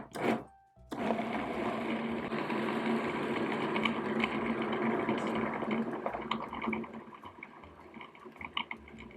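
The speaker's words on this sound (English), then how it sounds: "you're going to want to blend this until it's all really uniform and sticking together" A blender whirs steadily through a thick vegan chocolate brownie mixture, oil free and gluten free, after a brief start, running continuously for several seconds at close range with no talk.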